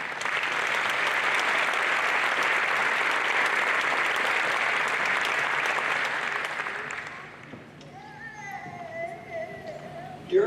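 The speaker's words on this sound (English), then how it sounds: "we would like to recognize them with our applause" Audience applause at a Palmer College Florida campus graduation ceremony, a dense sustained round of clapping that fills the hall for about seven seconds, then fades out and gives way to quieter sounds.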